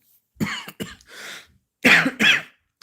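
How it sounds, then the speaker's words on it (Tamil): A few mild coughs and throat-clearing sounds, close by: two short bursts, a softer rasp, then two stronger coughs, with no talking. "மைல்டாக காஃப் இருக்குல்ல ஆமாம் காஃப் இருக்கும்"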